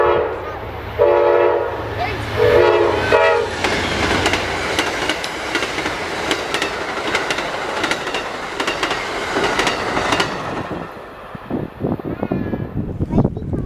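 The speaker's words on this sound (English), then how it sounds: "Next train was PO9116 coming out of Tampa headed toward Miami." A passenger train from Tampa headed to Miami rolls past close by in central Florida, with a horn blast early on, steady rumbling and clacking wheels, then fading as it moves away.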